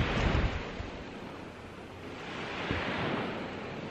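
Ocean waves roll onto the shore at the east side of Grand Beach, Manitoba, a steady wash of surf with gusts of wind buffeting the microphone, swelling at the start and again near the end.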